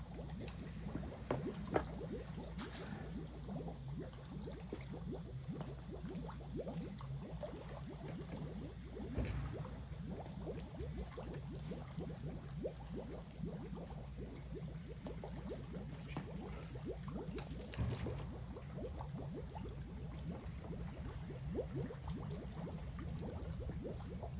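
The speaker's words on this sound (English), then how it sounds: "Take a little while to fill up the bottom, let this filter through." Water bubbles and gurgles steadily as it fills a DIY pond filter, a soft, continuous churning with occasional splashier moments.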